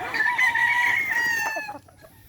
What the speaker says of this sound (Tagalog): May manok dyan, oh.